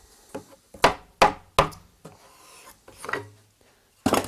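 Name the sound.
knocking out wooden wedges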